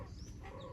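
Chicks and chickens peep and cluck faintly in a short burst, small chirps over a low background rumble with no talking.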